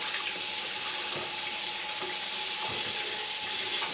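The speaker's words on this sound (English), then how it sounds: "Go ahead and rinse the inside of the turkey very well." Tap water runs in a steady, close hiss while a turkey is rinsed inside and out, with a few soft splashes and knocks.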